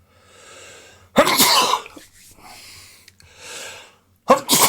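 A person sneezes several times in bursts, loud and close, with sharp explosive onsets separated by short breaths and pauses, heard alone without talk, in a hot setting.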